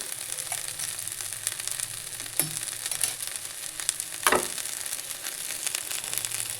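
Flat beans frying in a pan with salt and turmeric, a continuous close sizzle with occasional sharp stirring knocks against the pan.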